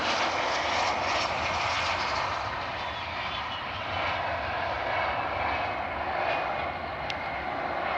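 A Loganair passenger plane roars steadily while landing at Glasgow Airport, a broad, sustained engine drone that stays loud throughout with no voices.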